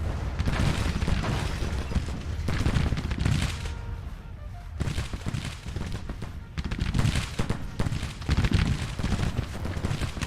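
Civil War battle gunfire in the Grand Tactician strategy game, dense continuous musket volleys and booming crackle rolling on for about ten seconds, loud and layered with no pauses.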